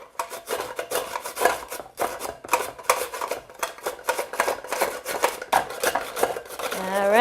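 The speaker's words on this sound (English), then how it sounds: "it's got these great little prongs that hold on to the veggies while you're grating them" Carrots grated on a hand grater over a bowl, a quick rhythmic series of close, scraping rasps, each stroke distinct, with no talking.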